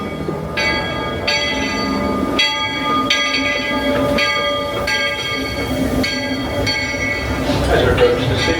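A steam train on the Walt Disney World Railroad rumbles steadily along while bell-like ringing tones repeat at intervals, fairly loud and close throughout.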